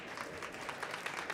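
A crowd applauds at a pool billiards match at the 2022 FargoRate Ohio Open. The clapping is steady and moderately distant, with slightly louder rhythmic swells throughout.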